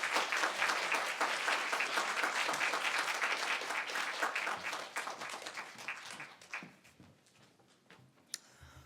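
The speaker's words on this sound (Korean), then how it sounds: "우리 박수로 목사님 환영하겠습니다" Church congregation in a Korean Sunday worship service applauding to welcome a visiting pastor, dense sustained clapping that thins out into scattered claps and fades near the end.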